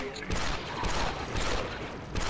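Blaster fire in the Star Wars Republic Commando video game, a rapid burst of shots and impacts filling the short moment, loud and continuous with battle noise.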